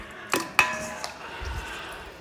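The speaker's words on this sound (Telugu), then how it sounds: "మొత్తం కుక్కర్లోకి వేసేస్తున్నాం." Chicken soup bones drop into a metal pressure cooker, landing in two sharp clanks with brief metallic ringing, then a softer knock and quiet shuffling.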